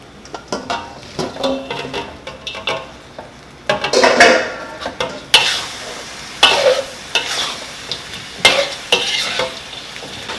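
Chicken wings dropped into a big wok of reducing gochujang sauce, giving sharp sizzling bursts, clattering tosses and metal scrapes in an irregular rhythm, loud and close.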